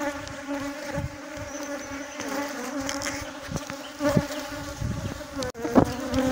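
Africanized honey bees buzzing at a hive box with a honey super, a dense continuous hum with individual bees droning past close by, no talking.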